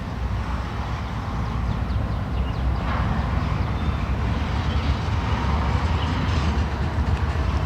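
Steady rumble of a freight train rolling along, with a continuous low roar and faint rhythmic clatter of wheels, fairly close and without speech.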